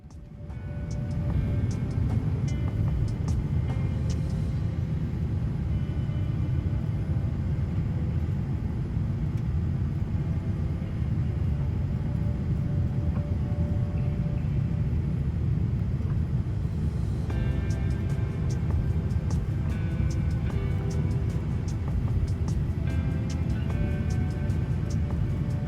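Inside the economy cabin of a Japan Airlines Boeing 787-8 on final descent into Taipei, a loud, steady low roar fills the whole stretch, with a faint high whine that drops out partway through.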